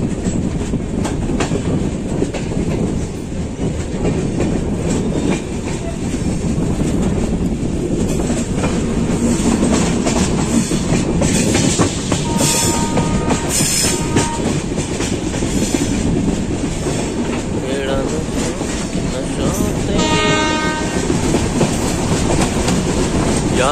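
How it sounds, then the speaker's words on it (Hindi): A three-coach Najibabad–Kotdwar passenger express runs past on the rails, loud and close, with a continuous rumbling roar, rhythmic clickety-clack of wheels over joints and brief high squeals and tones, and no talk. "नजीमाबाद कोटद्वार एक्सप्रेस, ये तीन डिब्बों की है ट्रेन।"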